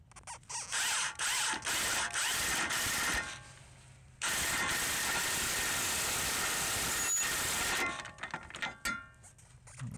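A ratchet tightens a bolt on the lower control arm of a 1997–2001 Nissan Altima, rapid clicking bursts followed by a long continuous whirring ratchet run, close and loud, with no talk.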